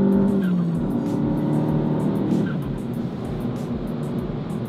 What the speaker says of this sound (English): We're getting gapped by a Mercedes SUV.